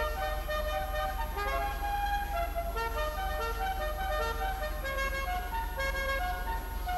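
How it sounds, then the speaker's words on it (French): A clown car horn in GTA 5 plays a honking, melodic run of stepped notes that continues for several seconds at steady loudness over a low background hum. "Klaxon de clown, excellent."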